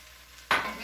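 Diced ham tossed into a hot pan for Creole jambalaya, giving a sudden loud burst of sizzling after a quiet start that then settles into steady frying.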